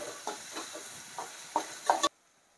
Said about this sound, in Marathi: आपला टॅमॅटो अशी परतून झाल्यात.